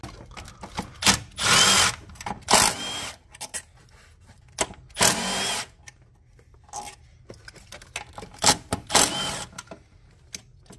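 A power drill backs out the four throttle body bolts on a 2015–2021 Kia Sorento/Sedona engine, several loud whirring bursts of a second or so each, separated by quieter pauses and small clinks.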